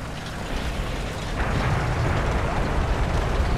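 A War Thunder artillery strike lands with a broad, rumbling explosive roar, a continuous heavy wash of blasts that grows slightly louder and fills the clip.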